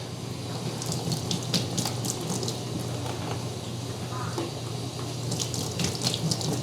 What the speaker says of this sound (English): Water's still coming out.